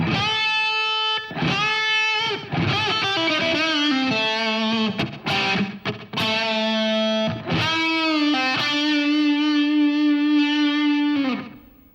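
Distorted electric guitar solo phrase in a hard-rock style, a string of quick picked notes and bends with short gaps, ending on a long sustained note, loud and alone.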